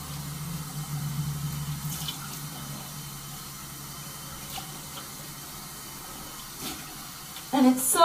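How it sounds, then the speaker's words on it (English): Hot tap water runs steadily into a bathroom sink during face rinsing, a constant close hiss of flowing water with splashes of hands and a clatter at the end. "So I have the hot water going."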